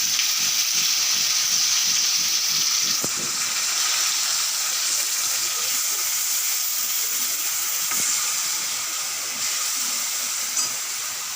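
Onions sizzle and hiss steadily in hot oil in a pan for a curry, a loud, close, continuous frying crackle with a few faint clatters, no voices over it.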